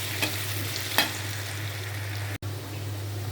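Yardlong beans fry in a pan, a soft steady sizzle over a low hum with a couple of brief stirring taps, quiet and close with no voices.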